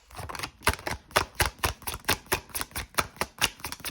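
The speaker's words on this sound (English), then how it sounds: "Even as I'm shuffling the deck," Tarot card deck being shuffled by hand: a rapid run of sharp, crisp card clicks and riffles in an even rhythm, close and fairly quiet, with no talking.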